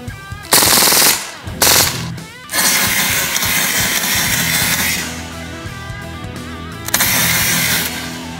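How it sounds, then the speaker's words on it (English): A Beretta 92 A1 BB pistol fires on fully automatic in loud, rapid bursts, with a short string of shots, a pause, then a longer sustained stream of fire close to the microphone. "we're gonna do fully automatic and let's see how fast this shoots"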